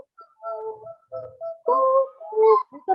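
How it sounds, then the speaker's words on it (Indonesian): Owl hooting during a children's yoga session, heard as a short series of soft, tuneful coo-like hoots in uneven bursts, close and clear with no talk. "Terdengar burung hantu. Suaranya merdu."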